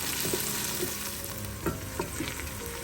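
Onions and diced carrot cook in a soup pot for creamy tomato soup, with a soft constant sizzle and spoon scrapes against the pot every half second or so. No voices.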